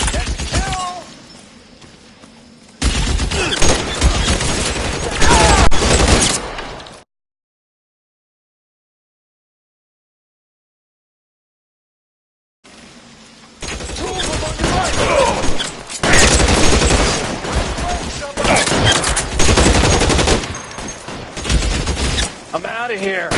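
Gunfire from a shootout in the L.A. Noire video game, dense bursts of loud shots and crashes in two stretches separated by a silent gap, with voices shouting over the action.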